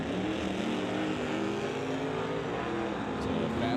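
A Ford Mustang with a 441 small-block V8 roars down the strip at an old-time drag race, its engine note loud and steady throughout.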